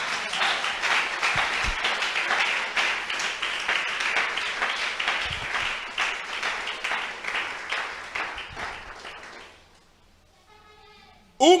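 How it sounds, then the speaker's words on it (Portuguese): A church congregation claps together in praise, a sustained crowd of hands for about nine seconds that fades out into near quiet, followed by a brief sound at the very end. "Aplauda ao Senhor,"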